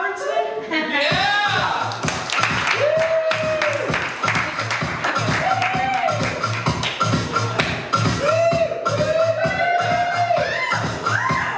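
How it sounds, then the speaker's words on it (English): Live audience at a weight-loss comedian's set cheers and claps steadily throughout, with whoops and voices over the applause, as Sheila Robertson takes the stage. "And cheer for Sheila Robertson."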